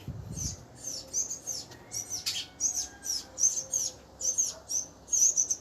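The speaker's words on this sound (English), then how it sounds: "like those birds you could hear now" Small birds chirp outdoors in a steady run of short, bright calls, repeating about every half second at moderate loudness with no talking over them.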